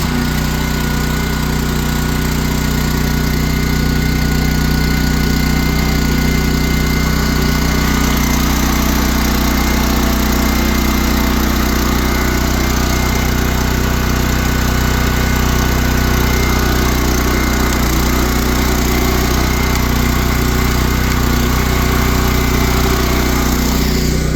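A Champion dual fuel generator runs loud and close with a constant engine drone and steady low hum, a faint start transient near the beginning and no voices.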